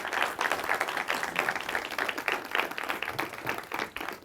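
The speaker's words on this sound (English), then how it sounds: "I'd like to ask you all to provide Dr. Pete Owen with a warm round of applause" An audience at a Marine Corps lecture series claps to welcome the lecturer, a steady, moderately distant round of applause that holds evenly for about four seconds with no talking over it.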